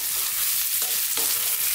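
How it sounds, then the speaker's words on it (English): Vegetables fry in a pan over lively heat and are tossed about, giving a bright continuous sizzle broken by a couple of sharp scraping clatters from the stirring. "let's just throw this around in the pan for about 3 to 4 minutes"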